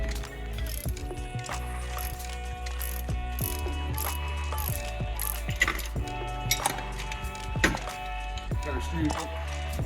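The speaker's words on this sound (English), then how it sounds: "I'm gonna go ahead and pull off the harmonic balancer as well as the power steering pulley." Ratchet on a pulley puller clicking in quick bursts while removing a power steering pulley from a supercharged LSA engine, with metallic clinks and gear noise close by and a voice speaking over it.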